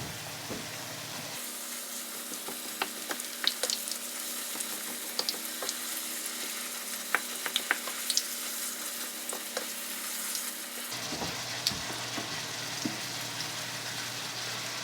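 A tortilla pierced with toothpick holes fries in a pan for Mexican pizza, giving a steady close sizzle with scattered small pops and crackles, while background hiss and hum rise at the start and drop near the end.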